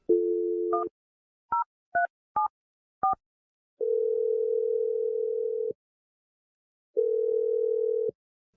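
A telephone dial tone hums steadily, then a quick series of touch-tone dialing beeps follows, and two long ringback tones sound as the call connects. It is clear and alone, with no talking.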